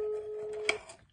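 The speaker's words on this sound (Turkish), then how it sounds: "Onu arıyorum şimdi." A telephone tone sounds as a friend is called, a steady single pitch holding for most of a second before breaking off with a short click-like burst, then quiet line hiss.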